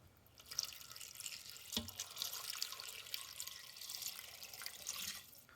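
Water pours and splashes into an Instant Pot Duo Evo Plus inner pot over lentils and potatoes, quiet and close, with a faint sloshing trickle lasting several seconds.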